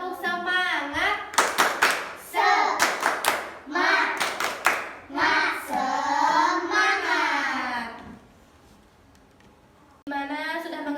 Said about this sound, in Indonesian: kita tepuk semangat lagi yuk